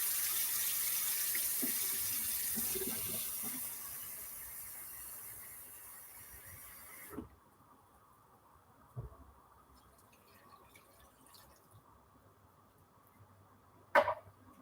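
Water streams from a kitchen tap into a cooking pot of red beans, a steady close rushing hiss that runs for about seven seconds and then cuts off, leaving quiet room sound with a few faint clicks and knocks.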